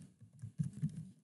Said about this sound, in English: Apologize for my typing here.